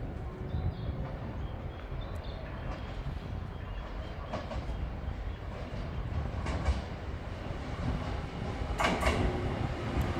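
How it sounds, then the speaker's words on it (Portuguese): An Akashio express train pulls into a station at the port city of Katsuura, Japan, with a steady, close rumble of wheels and carriages throughout and brief higher clacks and squeals toward the end. "esse trem é trem expresso"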